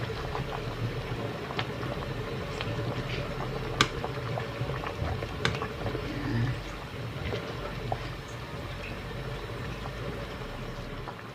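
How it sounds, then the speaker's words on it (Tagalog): Chicken macaroni soup with sausage and vegetables bubbling in a pot, a steady low simmering burble running throughout with a few faint clicks and clinks over it. "Pakuluan ulit natin at lutuin lang natin yung nilagay natin na mga gulay."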